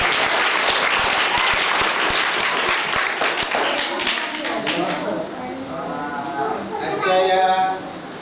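Audience applause at a birthday-event program for a school, dense clapping loud through the first half, then thinning and fading while people talk over the tail.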